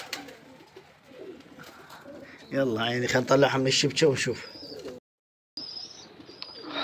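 Pigeons coo softly from a hunting net, low throaty calls repeating under a man's nearby speech, with a brief silent gap near the end before faint bird sounds return.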